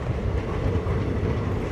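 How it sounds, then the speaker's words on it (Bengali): The Adra Chakradharpur Express pulls out of Barabhum station in Purulia, its carriages giving a steady, close, rumbling rattle of wheels on track with no voices over it. "এই হচ্ছে আমাদের ট্রেন বেরিয়ে গেল বড়ভূমি স্টেশন ছেড়ে"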